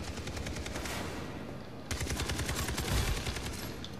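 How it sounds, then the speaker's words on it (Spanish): Rapid, loud automatic gunfire bursts in the shooter video game Far Cry 3 during a team deathmatch, dense rattling fire that briefly cuts out and then resumes heavier. "Me está disparando, no sé quién"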